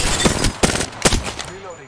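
Gunfire from the Apex Legends video game comes in three loud, close bursts of rapid shots, then fades into quieter game sounds.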